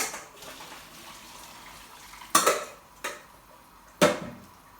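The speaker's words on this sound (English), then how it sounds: "potatoes are done, so I'm just going to drain them" Cooked potatoes are drained in a kitchen, water pouring and rushing into a sink, followed by a few sharp clanks of a pot against metal, close and without talk.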